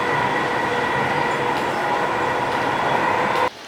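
Dubai metro train running at Expo 2020 station, a steady loud rumble with a sustained mechanical whine and rail noise throughout, cutting off abruptly near the end.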